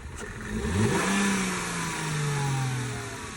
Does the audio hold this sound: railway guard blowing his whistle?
no